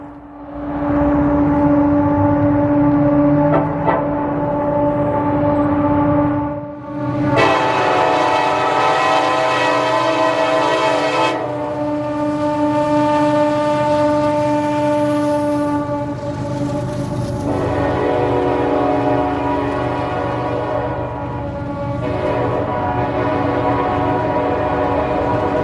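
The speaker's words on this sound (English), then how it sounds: "CSXT 4719 at the time, being a freshly repainted and rebuilt flared radiator SD70 Mac, which had some internal issues making its motor sound very loud" A freshly rebuilt CSX SD70MAC diesel locomotive, number 4719, hauls a coal train with an unusually loud, droning engine, steady and close for the whole stretch, its harmonic roar shifting in pitch as it passes; no talking.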